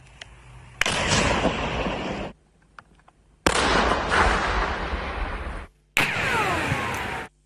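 Three separate controlled detonations of landmines go off one after another, each a sharp, heavy blast followed by a long roaring rumble that fades away before the next.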